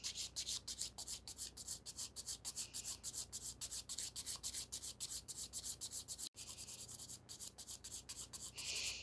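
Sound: nail file filing a gel nail extension

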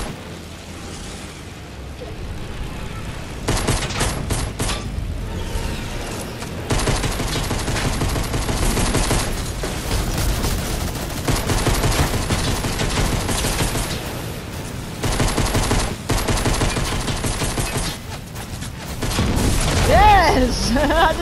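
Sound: pistol gunfire in video game Fortnite

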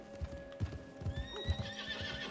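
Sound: horse neighing and hooves, video game

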